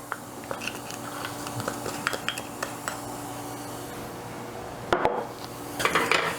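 A spoon clinks and scrapes against a pot on the stove while stirring homemade pumpkin spice creamer with brown sugar, producing scattered light taps and a few louder knocks near the end.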